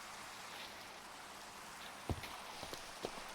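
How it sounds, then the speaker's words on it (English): Rain falls in a video game, a faint, steady hiss with a few soft drip-like ticks near the end, with no voices. "Sleep through the night, hopefully the rain stops."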